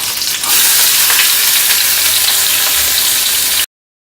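Onions fry loudly in a pan with a bright, steady sizzle and faint stirring, then stop abruptly into silence.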